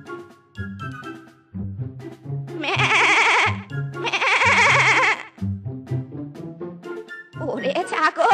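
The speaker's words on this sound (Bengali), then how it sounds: "ওরে ছাগল, চিল্লাস না রে, চিল্লাস না।" A cartoon goat lets out three loud, drawn-out bleats, one after another, with a voice talking in the gaps between them.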